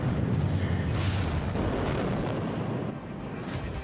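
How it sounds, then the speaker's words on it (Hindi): Missile strike on a bridge and command center in Russia–Ukraine war news footage, a sustained, loud rumbling blast with continuous roaring debris noise throughout, no voices. "जब मिसाइल पुल से टकराती है तो कमांड सेंटर में धमाका"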